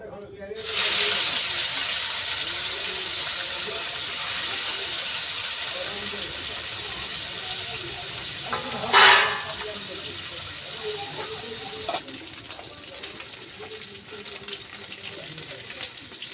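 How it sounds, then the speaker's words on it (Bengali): Fish frying in a pan gives off a steady, loud hiss of sizzling oil that holds throughout, with a brief louder spattering burst midway and a slight drop in intensity toward the end. "এই বাকি মাছগুলো আমি ভেজে নেব"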